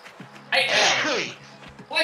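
A person gives one sharp, loud sneeze close to the microphone, with voices talking just before and after it.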